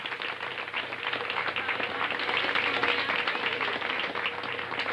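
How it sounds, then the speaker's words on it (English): Sustained audience applause at the Southbridge Optimist Club variety show in 1997, dense steady clapping from a crowd honoring the performers from the commercials, fairly loud and continuous throughout. "May I also have a round of applause, please, for the guys who did the commercials"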